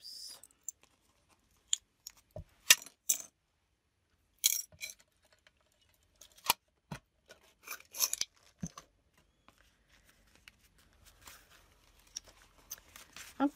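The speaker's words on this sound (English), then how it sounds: "Going to trim those and remove my clips." Scissors snipping through paper in a craft setting, a series of sharp close cuts and small metallic clicks as clips come off, scattered in short bursts with quiet gaps between.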